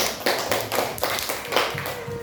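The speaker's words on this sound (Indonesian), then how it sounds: "Silakan beri tepuk tangan untuk kelompok 3." Students in a classroom clap for a group, a small round of loose, uneven clapping with distinct bursts and gaps, close and fairly loud, without talk over it.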